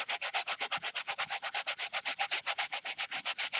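Painted layers of modeling paste on a heart artwork are sanded down in fast, even back-and-forth rubbing strokes, a rhythmic scratchy rasp repeating steadily and close, with no talking.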